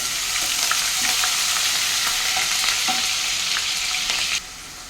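Ginger garlic paste hits hot oil in a pan for a stuffed brinjal curry, giving a loud, dense, continuous sizzle with light stirring scrapes, then dropping off sharply just before the end.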